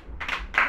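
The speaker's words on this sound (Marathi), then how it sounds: "टाळ्या वाजवा." Hands clapping in a short burst of two or three quick, sharp claps during a Ganpati festival farewell song gathering.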